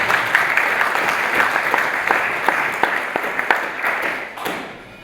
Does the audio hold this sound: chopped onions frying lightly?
no